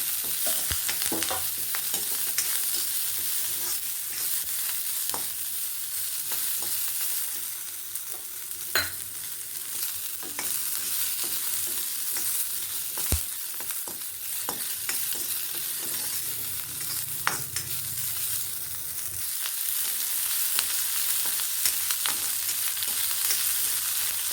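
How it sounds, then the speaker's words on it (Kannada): Curry leaves, chillies and small onions frying in tempering oil for a village-style sprouted horse gram curry, a steady sizzle broken by crisp crackles, pops and occasional stirring clinks. "ಇವಾಗ ಕರಿಬೇವು ಹಾಕ್ತಾ ಇದ್ದೀನಿ ಮೆಣಸಿನ್ಕಾಯಿ ಹಾಕ್ತಾ ಇದ್ದೀನಿ"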